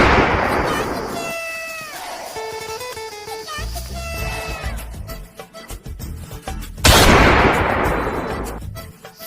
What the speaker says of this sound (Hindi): साला यहाँ तो गोलीबारी होने लगी है।